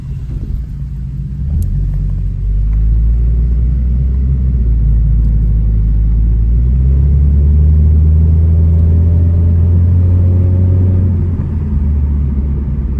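A Nissan S15 rolls along slowly with a deep, steady engine rumble close by, swelling slightly in the middle and then easing off, with no talking.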